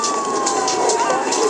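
A police car siren in Grand Theft Auto III wails at a steady high pitch across the clip, loud and continuous over a dense bed of game background noise.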